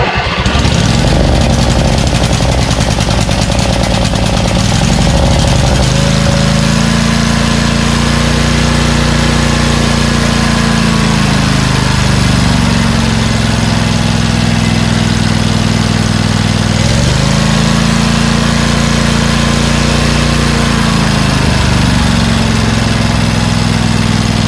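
A Briggs & Stratton 20HP V-twin engine on a Craftsman LT2000 lawn tractor runs loud and close, its throttle swinging between lower and higher revs twice with a rough, steady rumble throughout.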